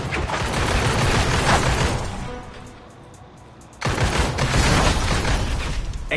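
Bursts of gunfire and explosions in the video game Midnight Poppy. A dense, loud barrage dies down to a quieter lull midway, then erupts again just as loud.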